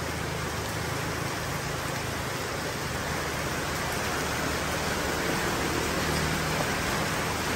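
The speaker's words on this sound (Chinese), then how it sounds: "怎么会老挝突然间下雨了？" A heavy downpour in Laos roars as a dense, steady hiss of rain, loud and unbroken throughout with no talking.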